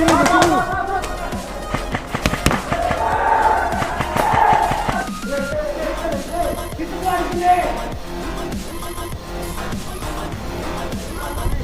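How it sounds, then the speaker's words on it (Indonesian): Game gunfire crackles through a busy mix of in-game effects and voices, with bursts of shots scattered across the clip and a player talking over it. "Emang ada baku tembak juga."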